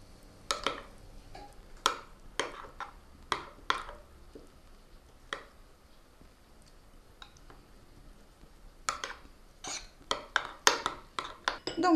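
A utensil stirs salad sauce in a bowl, producing a series of light clicking, tapping strikes against the bowl in an irregular rhythm, close and fairly quiet.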